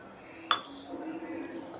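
Wheat-flour muffin cake tipped out of its tin onto a plate, giving a single sharp clink of metal or dish on the plate, followed by soft scraping and handling noises, close and fairly quiet.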